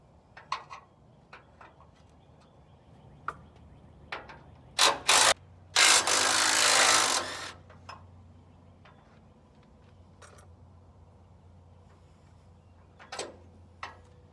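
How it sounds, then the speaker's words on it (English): Work on a 3/4 inch bolt on a 1978 Ford F-350 frame brings scattered metallic clicks and ratchet ticks, a few sharp knocks, and a loud grinding rasp lasting about two seconds in a quiet garage. "These are 3/4 inch bolts, so I'm going to see if I can get this other one off."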